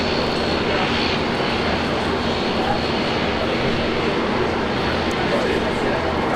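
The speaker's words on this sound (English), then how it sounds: "Alright, we've got another domestic flight coming out." A jet airliner on a domestic departure roars steadily and loudly at Brisbane Airport, a dense broadband rumble with a faint whine on top that holds throughout, while voices are present beneath it.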